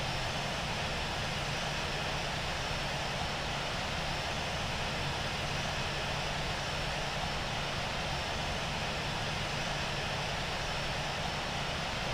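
A steady, even jet-engine hum of an Emirates airliner taxiing toward the runway at Rome's Da Vinci airport in the Infinite Flight simulator, a constant broadband roar that holds unchanged throughout with no voices.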